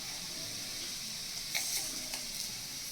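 Chana dal and cumin seeds frying in hot oil, a low continuous sizzle with a few brief crackling pops near the end, close and faint.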